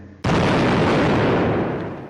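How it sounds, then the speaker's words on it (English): A cannon fires a single loud, close boom at a circus show, and the sound sustains as a heavy rumbling roar that fades slowly over about two seconds. "After the last boom of the cannon,"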